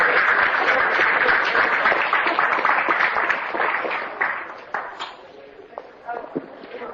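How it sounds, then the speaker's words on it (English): A seated audience at the 2013 Ferry County candidate forum claps in a dense, loud burst that thins out and fades over the last few seconds, leaving scattered claps. "another round of applause"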